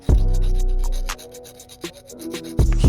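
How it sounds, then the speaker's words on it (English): Abrasive rubbing of sandpaper against a stripped diecast Matchbox Mercedes SLR McLaren car body, close up, in a steady scratchy stroke, a pause with light handling, then renewed scraping. "Now we're gonna sand it down."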